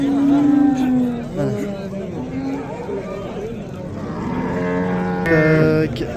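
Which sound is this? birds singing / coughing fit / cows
cows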